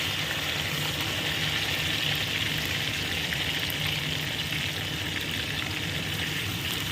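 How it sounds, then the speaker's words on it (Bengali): Potatoes fry in hot oil for a fish curry, giving a steady, dense hiss of bubbling oil that holds constant throughout with no talking. "একটু ভেজে নিচ্ছি আমি সবসময় যে আমাদেরকে বলি যে আমি কিন্তু একটু মাছের ঝোলের আলু বা যে কোনো ইয়ে আলুগুলো একটু ভেজে নিই"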